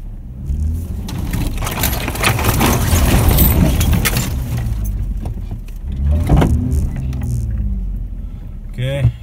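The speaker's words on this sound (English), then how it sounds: "So just gonna scratch my truck driving through here and turn around up there." A pickup truck rumbles close by as it pushes through brush, its engine a loud steady drone with scraping and rustling against the body, and someone talks over it.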